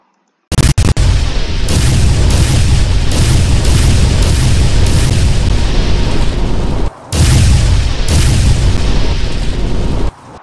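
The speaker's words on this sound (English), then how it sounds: "I'm gonna use my laser. Firing my laser." Superman's laser firing in a Roblox game, a loud continuous roaring blast that runs nearly unbroken for about ten seconds, with one brief gap partway through.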